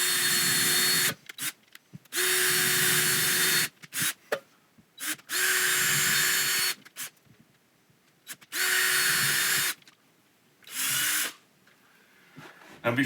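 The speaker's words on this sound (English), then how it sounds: "Now I'm going to drill the holes." A power drill fitted with a 3/8 inch bit bores holes into a wall in five loud, close bursts of about a second and a half each, with short quiet pauses and small handling noises between them.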